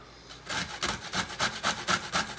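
Steady rhythmic rasping of a vegetable scraped across a box grater, about a dozen even back-and-forth strokes, close up with no talking.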